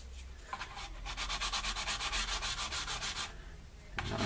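Nail-filing sticks rubbing across a USS Enterprise model: a close, rhythmic rasp of quick back-and-forth strokes, roughly a dozen in a row, ending in a pause and then one more scrape.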